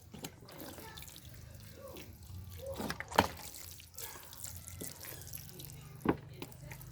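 Water is poured onto the soil of potted red ginger seedlings in polybags and planter bags, a soft trickling and dripping with a couple of sharper splashes, faint and close.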